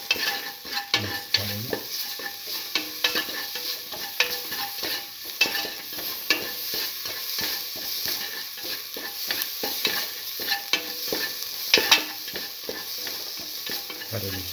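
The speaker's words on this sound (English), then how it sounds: "Thoroughly sauteing it. Mix all the ingredients together." Garlic, mung beans and pasta ingredients with turmeric and salt being stirred and sautéed in a pan: repeated scraping and clinking strokes over a soft background sizzle, close and moderately loud.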